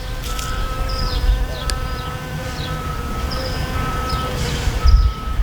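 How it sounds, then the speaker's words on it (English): A bee hums near a flower outdoors, a continuous nearby drone that persists throughout with slight pitch wavering over a low rumbling background and no voices. "And you can hear a bee buzzing."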